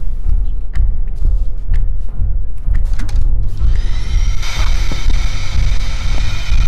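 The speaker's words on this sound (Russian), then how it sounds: "В обычной версии у него не работал пылесос, а здесь работает?" A vacuum cleaner switches on inside the neighbor's house in the Hello Neighbor game, a steady whining drone with a high tone that starts partway through and runs on loudly over low thumping footsteps and clatter.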